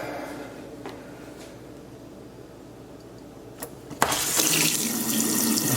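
A low hum and faint rumble, then a tap turns on and water gushes steadily into a sink, loud and close, with reduced pressure from a copper water line.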